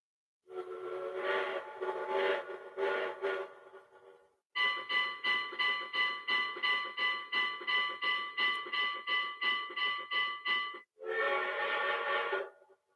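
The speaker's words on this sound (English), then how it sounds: "I guess y'all can hear the train coming in, don't you?" A train pulls in with its whistle blowing in long, loud, pulsing harmonic blasts. A shorter burst comes first, then a sustained stretch of repeated pulses, and a final brief burst, with no talking.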